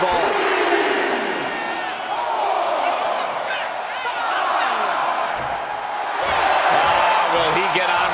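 A wrestling arena crowd roars and cheers in the WWE 2K25 video game, loud sustained cheering that swells near the end, with commentary voices talking over it.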